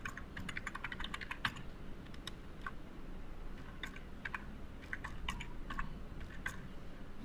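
Fingers type an email address on a computer keyboard, a quiet, steady patter of soft key clicks in short irregular bursts, close by against a faint background hiss.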